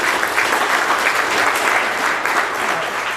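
An audience at an evening event with John Morton in Canby applauds Sylvia, a steady, dense wash of clapping at full strength throughout.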